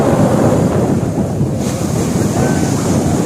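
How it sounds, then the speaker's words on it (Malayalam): Big ocean waves surge and crash onto a beach at high tide, a loud continuous roar of surf mixed with strong wind buffeting the microphone. "ഭയങ്കര തിരമാലയാണ് കേട്ടോ"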